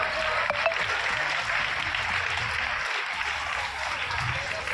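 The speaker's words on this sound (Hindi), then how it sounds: "अतिथियों का तालियों के साथ स्वागत करते" Sustained applause from an audience welcoming guests at a girls' inter college annual function, a steady dense wash of clapping that holds at even loudness from start to finish.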